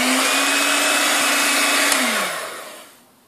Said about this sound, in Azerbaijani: Bunu da mikserlə qarışdırıram.